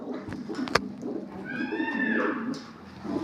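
Pigeon cooing among kept pigeons, with a soft rising call in the middle of some clatter and background noise, fairly close and moderately quiet.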